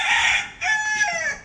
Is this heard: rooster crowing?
yes